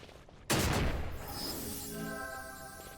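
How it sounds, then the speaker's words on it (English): An explosion trap in Final Fantasy XII goes off with a sudden loud blast after a brief quiet moment, followed by a long rumbling decay and lingering ringing tones. "These explosion traps are something else."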